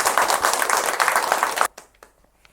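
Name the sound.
audience clapping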